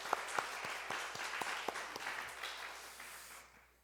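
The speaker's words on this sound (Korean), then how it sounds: "다시 한번 영광의 박수 한번 드리겠습니다" A church congregation at a Sunday afternoon worship service claps together, faint and distant, with a few sharper claps standing out before the applause fades.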